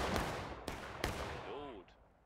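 Muskets fire in War of Rights in a few sharp cracks, followed by a short spoken call. Distant shots sound under the crackle of the battlefield.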